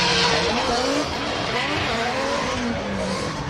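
A drift car skids hard through a corner during Formula Drift Japan qualifying at Ebisu, its tires squealing and its engine roaring loudly and continuously, heard close.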